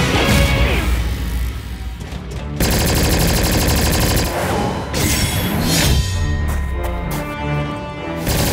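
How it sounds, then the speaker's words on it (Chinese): Gunfire in an animated mecha cartoon battle against alien soldiers firing from a distance: loud, rapid machine-gun bursts mixed with crashes and impacts, dense and continuous under a soundtrack. "学会躲在远处开枪了。"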